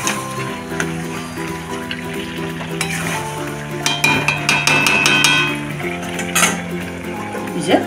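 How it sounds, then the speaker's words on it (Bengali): Potatoes are stirred into chicken curry frying in a pot, with a loud steady sizzle, scraping spoon strokes and clinks against the pan, busiest in the middle stretch. "এবার আমি আলুটা দিয়ে নাড়িয়ে নেব"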